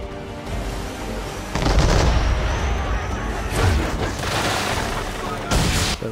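Ship-mounted swivel guns fire in an Assassin's Creed 3 naval battle, several loud booming blasts with rumbling tails over steady sea and game ambience.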